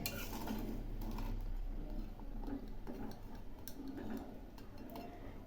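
Soft scraping and light clinks of a utensil stirring soybean chunks in a pot, irregular taps over a low background hum.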